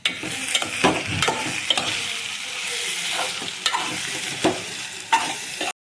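Green chillies fry in a pan with a steady close sizzle, and stirring scrapes and clinks against the metal recur every second or so.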